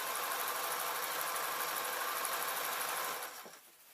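Sewing machine running steadily as it stitches fabric for a bear hat, a continuous close mechanical whir that stops abruptly near the end, leaving quiet room tone.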